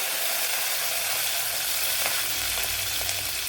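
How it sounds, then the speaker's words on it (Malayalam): Close, steady sizzling of hot oil with scattered small pops and crackles throughout as mustard seeds splutter in a pan. "ഇവിടെ കടുക് പൊട്ടിയിട്ടുണ്ട്"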